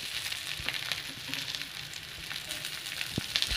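Ragi and drumstick leaf adai cooking on a hot griddle, giving a steady, soft sizzle with light crackles close by, without talk.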